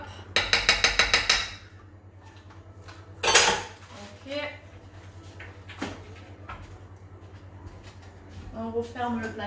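Metal cutlery and dishes clatter in a kitchen while cornstarch is spooned out for a lemon tart: a quick burst of rapid clinks, then scattered knocks, a cupboard bump and scraping, with a low steady hum underneath.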